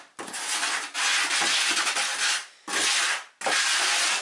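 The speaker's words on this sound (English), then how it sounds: "So we just stir this in now using my bucket trowel" A bucket trowel scrapes and stirs limestone grout in a bucket, loud and close, in long gritty rubbing strokes separated by brief pauses.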